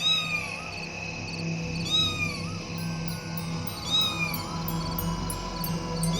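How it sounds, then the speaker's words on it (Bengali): A black cat in an animated cartoon gives repeated rising and falling meows at intervals, loud and clear over a continuous music bed. "ওরে বাবারে, বিড়াল!"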